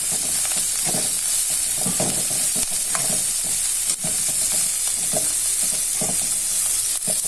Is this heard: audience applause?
no